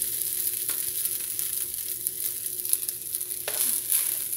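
Shrimp and ham fried rice sizzles steadily in a hot skillet, a close, even hiss broken by a few soft scrapes and clicks of stirring, with no voices.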